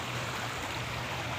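Water released into a pond flows and gushes steadily at moderate loudness, forming an even, continuous rush with a low hum beneath it and no talk in this moment.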